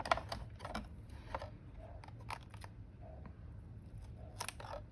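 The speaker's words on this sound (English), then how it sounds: "trim that end off. Find those scissors." Scissors snip paper while someone makes a journal from a paper pad and a manila folder, several quiet, crisp cuts spread through low background noise.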